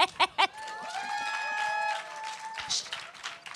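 Sparse, half-hearted applause from a small stage audience, with a few scattered claps, then a thin patter blended with background music and talk.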